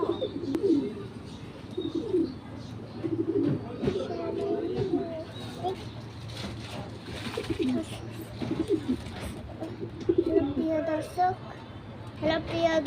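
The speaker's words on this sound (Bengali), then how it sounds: "কয়টা সিরাজি কবুতর" Sirazi pigeons cooing in repeated low, soft phrases at close range, with chirps and a voice mixed in over a steady background hum.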